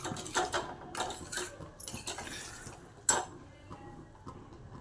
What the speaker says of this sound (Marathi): आणि आता हे मिक्स करून घेते मी.